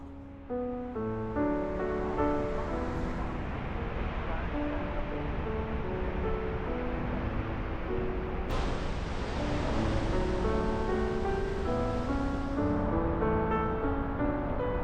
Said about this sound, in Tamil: இங்கே தெரியுது இந்த அமெரிக்கா அருவி